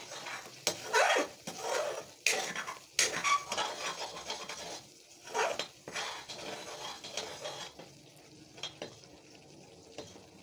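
A utensil scrapes and stirs ghee in a metal kadhai, giving repeated close scraping strokes and light clinks in an uneven rhythm over a faint sizzle, then quieter taps toward the end.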